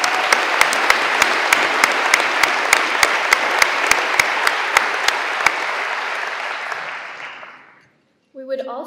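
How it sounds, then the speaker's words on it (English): A graduation crowd at the WNHS 2023 commencement gives school staff a dense, steady round of applause that fades out after about seven seconds, followed by a brief pause before a voice begins. "Please give them all a round of applause."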